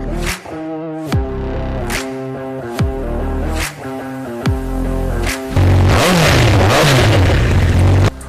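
A Honda CBR1000RR superbike's engine revs hard in a series of loud, close throttle blips, each rising and falling, ending in a sustained higher-pitched roar.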